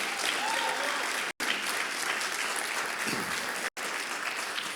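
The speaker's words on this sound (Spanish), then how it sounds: "Dale el aplauso a esos servidores." A church congregation claps for its volunteers in a full, continuous burst of applause, loud and even, broken only by two brief dropouts.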